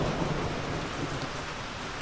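A heavy rainstorm pours steadily in a dense, loud hiss of torrential downpour, with thunder rumbling low underneath throughout.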